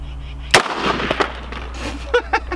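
A single sharp gunshot fired toward a stack of hard hats cracks once near the start, followed by a couple of quieter pops and clatter with faint voices in the background.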